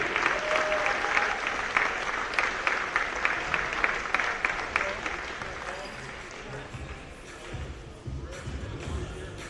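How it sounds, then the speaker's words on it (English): Enthusiastic crowd applause at a men's college basketball game, loud and sustained, with scattered cheers, gradually thinning out toward the end. "let's express our gratitude by extending a warm Saints welcome and enthusiastic round of applause."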